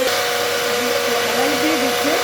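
An electric mixer beats chocolate and vanilla cake batter while oil is poured in gradually, a loud steady motor whine throughout, with someone talking over it.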